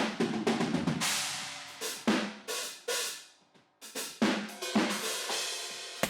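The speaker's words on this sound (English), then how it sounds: "I sometimes distort my dirty room tracks right from the start." Heavily distorted drum room microphone tracks with crunchy, compressed hits in a loose groove, loud and saturated, with a brief drop near the middle.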